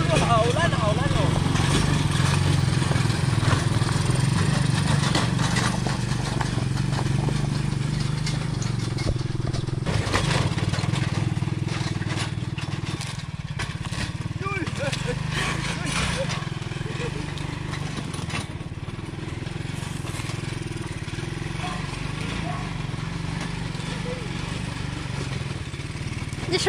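A motorized cart's engine drones and rattles steadily as it hauls over 1000 jin of sweet potatoes along a rough, rutted country track, with people talking over the continuous close engine noise.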